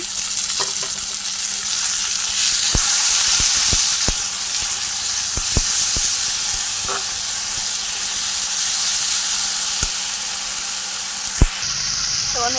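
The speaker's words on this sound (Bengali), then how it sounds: "দেখো আমি মশলাটা ভেজে নিচ্ছি" A continuous loud sizzle and hiss of spices frying in a pan with already-fried onions, dotted with scattered small pops and clicks, steady throughout.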